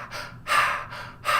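A man imitates Juicy J's heavy breathing: three loud, raspy breaths in a quick rhythm, close to the mic, with no words.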